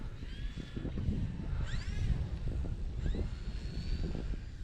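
Turbo Timber Evolution RC plane flying outdoors in Florida, a steady buzzing electric motor drone at moderate distance, with faint whistling chirps over it.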